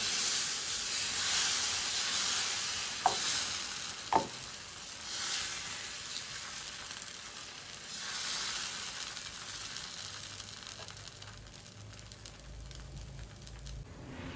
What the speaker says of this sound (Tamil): ஏற்கனவே தோசைக்கல் சூடாக இருக்குது இப்போ ஊற்றிக்கலாங்க தோசை